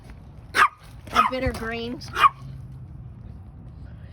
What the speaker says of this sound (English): Sorry for the dog, she wants to play frisbee.